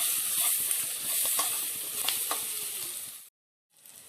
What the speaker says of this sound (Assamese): গুড়িখিনি অকণমান ভালকৈ ভাজি ল'ম।